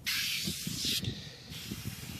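Foam cleaner sprays onto a car wheel rim in a steady close hiss, broken by short pauses and bursts, with no talking.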